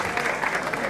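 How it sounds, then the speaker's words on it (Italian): A crowd at a slalom motor race in Oppido Mamertina, Calabria, breaks into a brief, faint burst of applause for a driver. "Un applauso ulteriore alla nostra bravissima Michela"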